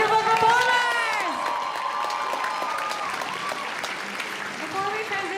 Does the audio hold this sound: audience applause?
yes